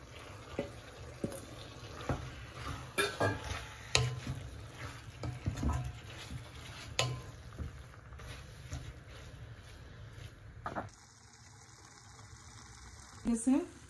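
Spinach goes into a frying pan with prawns for a bhuna, giving scattered clattering stirs and soft sizzling at close range that stop near the end.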